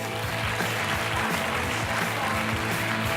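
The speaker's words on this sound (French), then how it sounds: "Applaudissements, s'il vous plaît," A conference audience applauds a Belgian showman speaker, steady, fairly loud clapping over a low musical hum that continues throughout.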